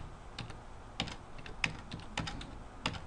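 Computer keyboard typing while entering two arrays in a programming exercise: scattered clusters of close, crisp key clicks in uneven bursts, with no talking.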